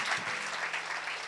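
A church congregation applauds through a short burst of clapping during a French-language service, a dense, steady patter of many hands with no voices heard.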